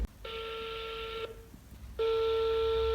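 A telephone call rings out with two long steady ringback tones separated by a short silence, clear and close.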